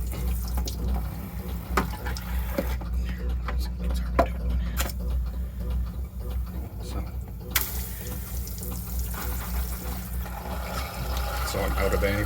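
Water running from a faucet with a detachable shower head aboard a boat during winterizing, a steady hiss with occasional clicks and clunks.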